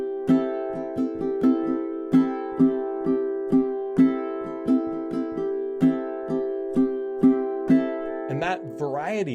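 Ukulele strummed in a lively repeating pattern, strokes hitting three or four strings for a fuller ringing chord sound, close and clear, ending in a brief fading flourish near the end.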